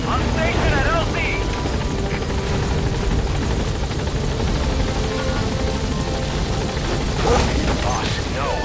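A helicopter arrives at a landing zone in Metal Gear Solid V: The Phantom Pain. Its rotor roar is loud and continuous, with faint mechanical clicks and voices mixed in.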